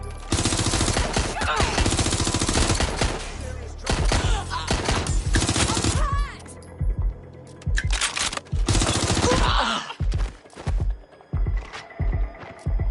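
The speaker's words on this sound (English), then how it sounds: "Shooting!" Gunfire in the video game Watch Dogs Legion, loud rapid automatic bursts and single shots crackling close by in dense volleys, broken by brief pauses.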